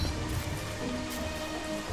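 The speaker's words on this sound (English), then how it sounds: "When it's this heavier type of rain, or when there's thunder, you want to stay away from" Heavy rain falls in the video game Don't Starve as a steady, dense wash of hiss and patter that fills the whole short moment without a break.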